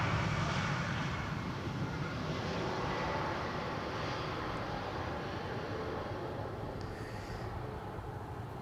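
A KLM Embraer 195 jet approaching the center runway at Amsterdam Schiphol in gusty, overcast weather, its engine roar a broad steady rumble that holds loud throughout and fades only slightly.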